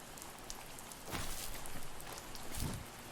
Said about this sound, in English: Now it's just the sound of rain